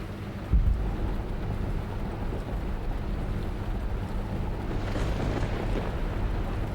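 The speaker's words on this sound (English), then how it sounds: "Thunder." Thunder in a coach-driving simulator game rumbles low and heavy as a broad continuous roll, mixed with steady rain and engine noise, with a stronger burst near the start.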